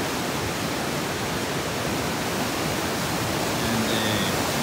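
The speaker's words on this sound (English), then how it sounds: "cool mountain coast range stream." A cool coast range mountain stream at Plympton Creek in an old-growth ravine flows steadily, a broad even rushing wash with no break and no voices.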